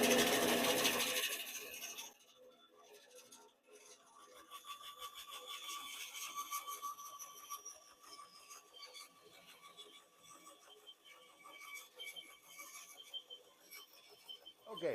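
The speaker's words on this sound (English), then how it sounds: "the strips I cut on the bandsaw were very rough" A bandsaw cuts wood strips: a burst of broadband cutting noise opens, then the blade settles into a steady whining hum with faint rasping through the rest, with no voices.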